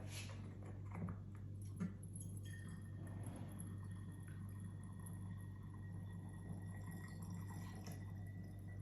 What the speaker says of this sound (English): So let's put some water in and see what we think.